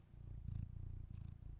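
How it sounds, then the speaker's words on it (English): A cat purrs close up in a soft, steady rumbling rhythm, low and quiet, with no voices. "Some purrs for you."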